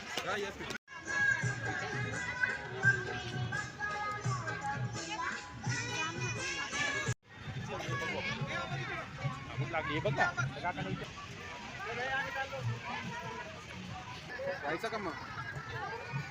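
A dense crowd of children at an outdoor kids festival at Saras Baug in Pune, busy chatter and shouting voices layered into a constant hubbub, with a nearby adult talking over it.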